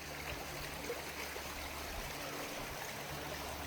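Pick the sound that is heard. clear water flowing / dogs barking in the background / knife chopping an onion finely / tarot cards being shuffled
clear water flowing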